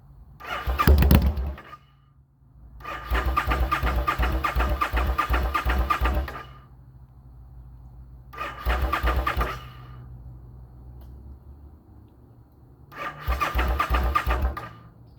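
Suzuki Intruder motorcycle in neutral with the clutch held in, the starter cranking in four separate bursts, each a rapid churning turnover that cuts off into near silence before the next attempt, close and loud.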